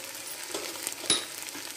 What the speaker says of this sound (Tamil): இது நல்லா வதக்கணும்